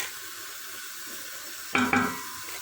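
Chickpeas sizzle in hot oil in a pan as tomato paste goes in, a steady soft frying hiss broken by a louder burst of spatter and stirring near the end.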